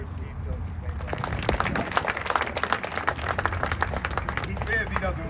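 An outdoor crowd at a trail ribbon-cutting ceremony claps in a scattered, sustained round of applause, with talking going on over it.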